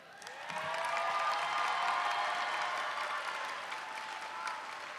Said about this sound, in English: Can y'all give one more round of applause for Mother's Day?